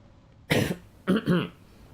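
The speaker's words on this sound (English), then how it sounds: "still coughing like I'm fighting a hydrogen bomb" Three sharp, close coughs from a man during a live game stream, a single loud burst followed by a quick pair, with quiet room tone between them and no talking.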